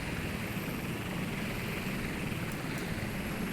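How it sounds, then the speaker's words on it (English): A helicopter flying in the naval war game Sea Power, a steady, even rotor and engine drone holding at constant loudness with no break. "We'll have that helicopter head up that way"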